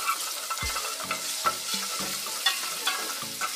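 Garlic and tomato paste stirred in a frying pan, a steady sizzle broken by repeated clinks and scrapes of a spoon against the metal at an irregular rhythm, close up and without speech.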